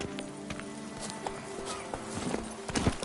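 Hooves of Roach, the horse in The Witcher 3 game, pounding in a quick galloping clip-clop, loud and continuous, with a brief snort or whinny near the end.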